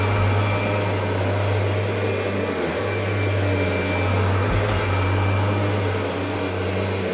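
A 1991 Kirby Generation 3 upright vacuum cleaner runs steadily and loudly on carpet, giving a constant motor whine with a strong low hum. There are small dips in the sound but no break, and no one speaks.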